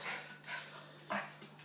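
A puppy whimpers in short, breathy bursts, several soft whines spread across the moment with a slightly louder one near the end, close and fairly quiet.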